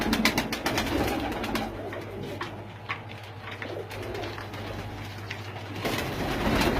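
Pigeons coo on a rooftop, their soft repeated calls layered over busy outdoor background noise and a low steady hum.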